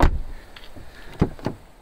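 A 2020 Skoda Superb iV 1.4 PHEV car door without soft-close shuts with a couple of short, solid thumps, fairly close, with no talking.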